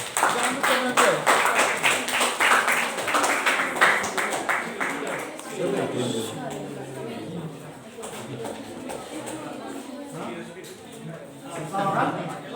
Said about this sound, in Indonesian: tepuk tangan tuh dia